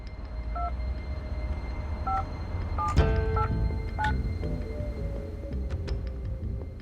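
A telephone number is keyed in as a short run of touch-tone beeps, spaced irregularly, over steady background noise, with a louder clatter partway through.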